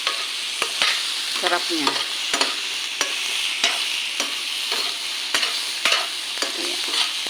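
Prawns for sinigang are stirred in a sizzling pot, a steady frying hiss punctuated by regular sharp clicks of a utensil against the metal; a voice speaks briefly.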